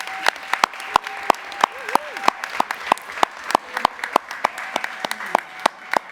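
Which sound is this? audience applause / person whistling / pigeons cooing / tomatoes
audience applause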